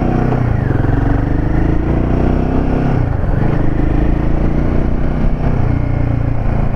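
A Royal Enfield Himalayan 450 motorcycle pulls hard under acceleration, its single-cylinder engine roaring loud and close in a continuous rising drone with rushing wind noise and no speech.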